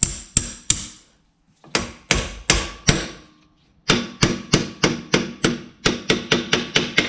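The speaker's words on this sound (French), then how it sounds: "on peut le faire à la presse ou alors au marteau, tout doucement comme ça" A hammer taps a Citroën Xsara Picasso front wheel bearing out of its housing in a garage. Sharp, close metallic blows come in quick runs separated by short pauses, with no talking.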